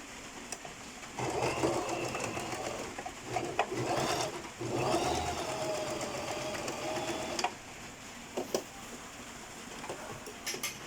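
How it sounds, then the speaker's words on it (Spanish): A sewing machine stitches a skirt waistband at a one-centimetre seam allowance in several steady runs of rapid mechanical whirring, separated by brief stops and small clicks, close and with no talk. "vamos a cerrar este lado totalmente a 1 centímetro de margen de costura"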